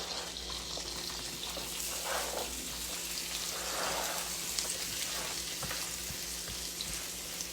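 Food sizzling steadily in a hot skillet while cornbread dressing is being prepared, a continuous bright crackle of frying with small pops, close and fairly loud with no talk over it.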